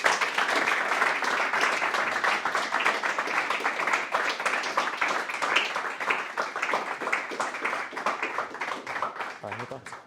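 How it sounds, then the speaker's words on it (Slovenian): Audience applause after an evening academy lecture on muscle mass, dense, close clapping sustained for about ten seconds with no lull. "se mi zdi, da se zaslužite še en velik aplavz"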